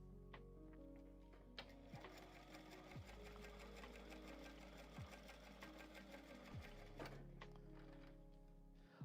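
A Juki sewing machine stitches steadily for several seconds, its needle mechanism hammering in a fast, even rhythm with a few brief thunks as it slows and restarts, close up and without talk.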